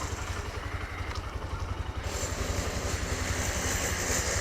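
Honda Shine 125 BS6 motorcycle engine idling close by, a steady low rapid putter with light exhaust vibration, continuous and even throughout.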